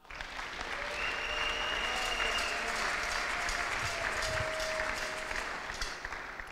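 A church congregation applauds steadily during a sermon, dense continuous clapping filling the space with a faint tonal ring, sustained for several seconds without a break.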